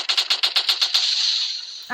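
Automatic gunfire in the video game Real Gangster Crime 2 rattles in a fast, loud burst of about nine shots, then trails off into a ringing tail.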